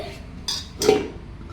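Spice-rubbed beef pieces going into a pressure cooker, with two short clinks and scrapes of metal pots and utensils over a quiet kitchen background.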